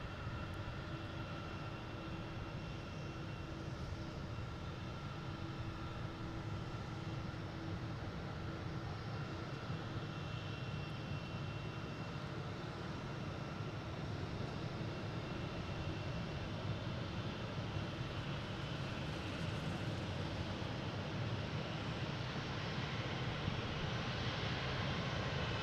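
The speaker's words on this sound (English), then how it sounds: "here is JetBlue coming in a 320. Flight 622." A JetBlue Airbus A320 on arrival at Boston Logan, flight 622, gives a steady broadband engine roar that holds even and fairly loud from start to finish, with no voices.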